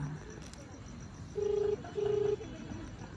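An outgoing telephone call rings on the line with two short, even ringback tones in quick succession, faint and tinny against a soft background hum.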